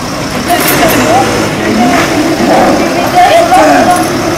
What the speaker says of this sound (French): Camion derrière.